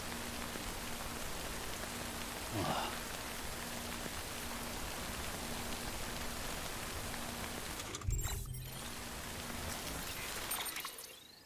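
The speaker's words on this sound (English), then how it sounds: "So am I just like wasting time waiting for the rain to pass," Steady rain pours down in the video game Death Stranding, a dense, even hiss of drops that holds throughout with brief shifts in the texture near the end.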